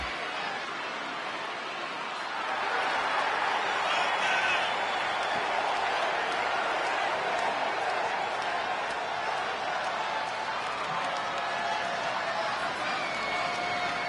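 Steady crowd cheering and roaring in an arena in WWE 2K20, a broad continuous wash of noise that swells after a quieter start and holds loud and even to the end.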